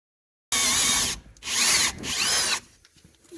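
A power drill turning a step drill bit through a Yamaha exhaust to open a 3/8 hole, three loud whining bursts close by, separated by short pauses, with quieter scraping after the last.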